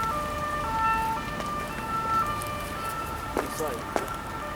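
A police or ambulance siren sounds at a distance on a street where migrants are living rough, holding long steady tones under ambient noise and voices, with a couple of sharp knocks near the end.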